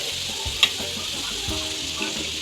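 Split mustard seeds fry in hot oil with a continuous crackling sizzle, marked by a sharp tap near the start and soft scraping knocks throughout.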